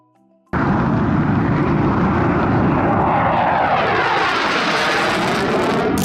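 An IAI Kfir jet fighter roars past after a moment of near silence, a loud sustained engine rush that swells and shifts in pitch as the aircraft flies by, dominating the scene alone.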